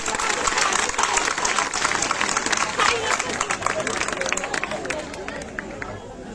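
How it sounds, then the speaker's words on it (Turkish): A crowd at a summer village festival in Aşkale's Gümüşseren village claps for the district governor, with a dense burst of applause that fades gradually, mixed with crowd chatter and a voice over a loudspeaker. "Evet, alkışlıyoruz kaymakamımızı."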